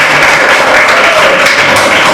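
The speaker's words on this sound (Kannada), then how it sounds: "ಹೊರಗೆ ಕೈ ಚಪ್ಪಾಳೆ ನಮ್ಮ ಅಧ್ಯಕ್ಷರಿಗೆ" Audience applause at a JCI Mangala Gangothri week-closing ceremony, a steady wash of many hands clapping for the president, dense and continuous without pause.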